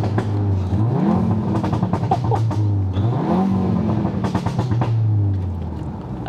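A tuned Audi TTS engine revs hard in repeated rising surges, each climbing then dropping back, loud and close with a throaty roar and crackles between pulls, echoing slightly under trees.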